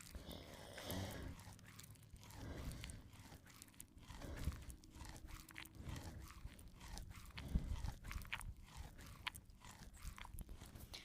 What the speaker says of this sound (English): now she is chewing that hay again